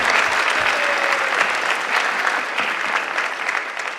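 Audience at a high school spring showcase concert bursts into steady, dense applause, loud and sustained throughout with a slight fade near the end.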